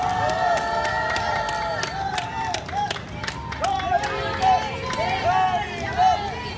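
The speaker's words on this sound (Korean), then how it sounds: "여러분 뜨거운 박수 부탁드리겠습니다." Crowd at a conservative political rally in Daegu applauding and cheering after a speaker's introduction, a steady wash of clapping with scattered shouts and babble throughout.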